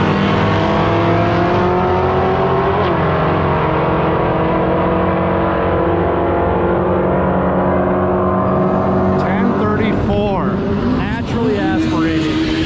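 A 1200 HP nitrous-fed Ford Mustang roars down a quarter-mile drag strip, its engine loud and continuous as the pitch climbs steadily through the run before rough, shifting revs near the end.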